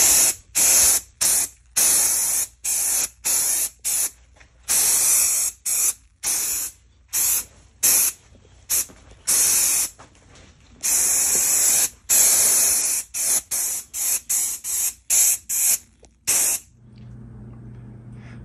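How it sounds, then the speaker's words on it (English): Repeated bursts of aerosol cleaner and polish spray hiss close by on a motorcycle, each a second or so long with short gaps between, continuing steadily before stopping near the end. "let's start spraying some of this on here and see how it comes out"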